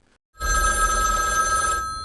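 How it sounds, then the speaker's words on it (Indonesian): An old-style public pay phone bell rings inside a phone booth once in a sustained metallic trill after a brief silence, loud and close, then fades slightly at the end. "tetapi telepon tiba-tiba berdering"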